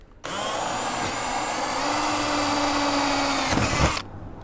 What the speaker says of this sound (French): Donc on perce.